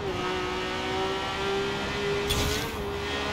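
A Honda NSX-R GT on race tyres drifts in Forza Horizon 4, its engine holding a steady high whine close up, with a brief burst of tyre noise partway through.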